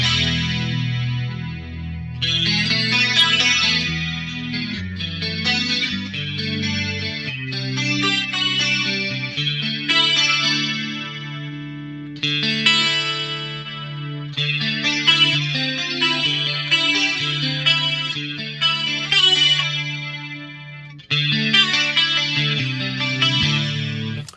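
An electric guitar through an Eventide TriStereo Chorus and slight distortion strums chords and picks bright notes, a wide, swirling, shimmering stereo tone with no one talking.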